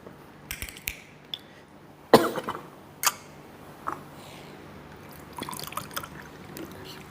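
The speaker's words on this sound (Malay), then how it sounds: "Batuk pula tuan-tuan" Several short, sharp coughs break out one after another in a hushed hall during a religious lecture, close and loud against near silence.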